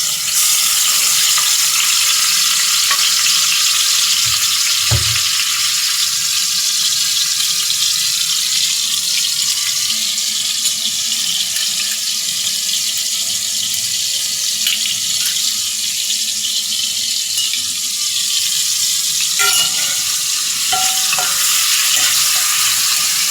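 Ginger, garlic and onion paste fries in hot oil, giving a steady, loud, dense sizzling hiss throughout with one low thump near the start and a few faint clinks later.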